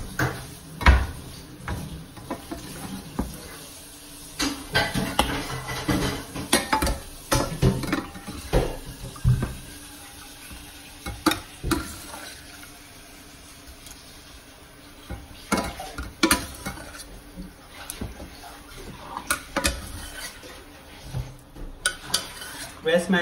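Stir-fried wild garlic with shrimp scooped from a pan onto a plate, with scattered clinks and scrapes of a utensil on metal and dishes under occasional talking.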